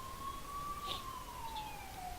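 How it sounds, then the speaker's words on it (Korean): Ambulance siren wailing steadily in a school setting, a single long tone sliding slowly downward with a faint higher chirp, continuous and moderately loud against quiet background noise. "또 앰뷸런스 온 거야?"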